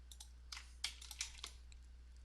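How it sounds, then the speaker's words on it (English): Mouse clicks at a computer while holding Control and left-clicking to drag out a path, a series of sharp, close, dry ticks at irregular intervals, fairly quiet, with no talking. "continue holding Control and left clicking as we drag the mouse in a circle"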